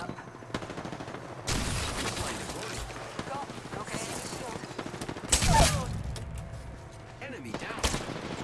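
Apex Legends gunfire crackles in scattered volleys and short automatic bursts, with louder blasts standing out, while players talk over the shooting.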